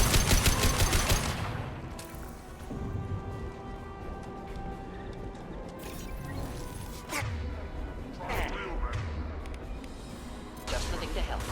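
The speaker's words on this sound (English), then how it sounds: "A misplaced shot can cause a significant explosion." Mass Effect combat on Tuchanka: rapid gunfire rattles under dense background noise, with a heavy blast at the start and further bursts and impacts throughout, as unstable crates explode.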